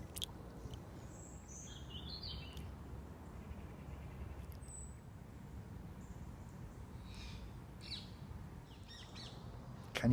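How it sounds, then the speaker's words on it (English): Faint bird calls chirp intermittently in the distance over a steady low background rumble, a few short bursts scattered across the stretch. "Can you hear those birds in the background there?"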